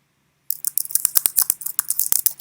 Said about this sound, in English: Okay, so that's definitely the typing.